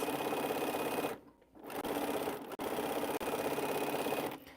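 A sewing machine stitching fabric strips together for a quilt. It runs at a fast, steady mechanical rattle, stops briefly about a second in, then resumes with short, clicking interruptions, close and alone.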